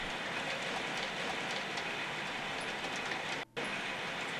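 A model train runs on an outdoor garden railroad, a steady clattering rumble of wheels on track that continues evenly for several seconds with a brief dropout near the end, no voices.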